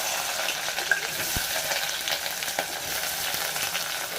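Onions frying in hot oil for Telangana-style fish curry, a steady close crackling sizzle with occasional sharp taps of a spoon against the pan, no talk.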